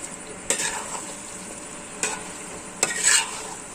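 Chicken masala with Kashmiri chilli sizzles softly in a pan, broken by three distinct scraping strokes of a spoon stirring, the last one longer.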